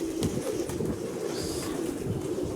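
Pigeons coo in low, rolling murmurs that run on continuously, several birds overlapping close by.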